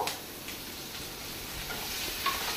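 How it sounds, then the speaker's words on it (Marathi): Tomatoes go into a pan of frying onions, producing a continuous soft sizzle with light stirring scrapes, close and steady, with no talk. "आता तातून घालता टोमॅटो"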